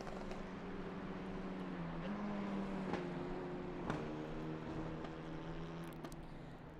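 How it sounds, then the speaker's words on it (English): Small Renault Clio Cup race car engines roar around the turns of Silverstone circuit, a faint, distant droning whine that shifts pitch as cars change gear. "Listen to those little Clio engines roar around these turns."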